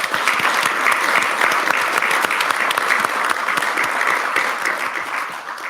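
Audience applause at a State of the City chamber of commerce breakfast, steady and loud dense clapping from a large crowd, sustained evenly throughout with no talk.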